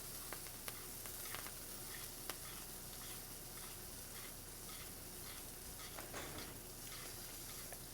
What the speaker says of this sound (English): I'm going to take my spoon, and I'm going to start to baste the meat.